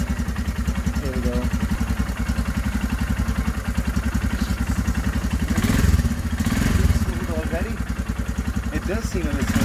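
A Royal Enfield Himalayan motorcycle engine idling after an oil and filter change, a close, steady thumping putter with a brief rev swell midway, while someone talks over it.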